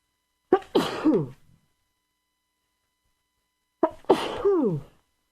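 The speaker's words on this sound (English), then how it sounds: "I have to sneeze." Two distinct sneezes, each a sharp intake followed by a loud burst, separated by a few seconds of silence, close to the listener.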